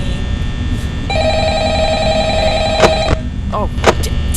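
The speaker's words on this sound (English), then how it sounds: "The phone is ringing." A steady electronic telephone ring in the video game Five Nights at Freddy's sounds over a constant low rumble, followed by a couple of sharp bangs and clicks near the end.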